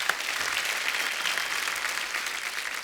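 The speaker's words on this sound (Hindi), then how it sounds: "तो एक बार तारा फ्रॉम सतारा की टीम के लिए जोरदार तालियां।" A studio audience at a comedy show bursts into steady, dense clapping that holds at a consistent level throughout, close and full without any talk over it.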